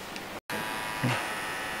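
An electric hair clipper buzzes steadily close by during a zero-cut haircut, cutting out briefly near the start and then resuming, with a slight change in tone as it presses against the head.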